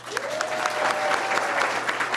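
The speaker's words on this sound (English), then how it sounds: "Give them a big round of applause" Sustained audience applause for a US ambassador and his wife at a gathering of embassy staff in Havana: dense, steady clapping throughout, with a faint thin tone running through the middle.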